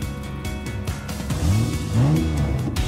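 Car engines revving loudly at the start of a race, with rising and falling revs and swooping pitch sweeps repeating over a few seconds, close and dominant with no talk.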